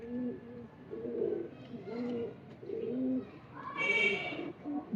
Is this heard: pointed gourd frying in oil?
no